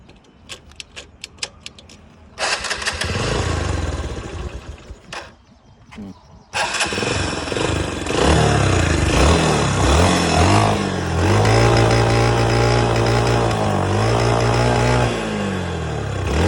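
A TVS Star City motorcycle with low mileage and poor pickup is kicked or cranked a few times in short bursts, then catches and runs at a steady, loud idle with slight revving, close by.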